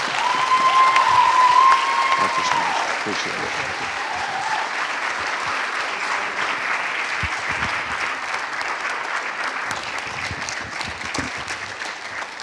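Sustained applause from a crowd at a New Jersey governor candidate forum, loud and continuous throughout as the audience thanks a candidate, with someone briefly speaking his thanks over it.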